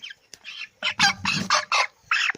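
Several short, loud clucks and squawks from 24-day-old broiler chickens close by, coming in quick separate bursts with brief pauses between them.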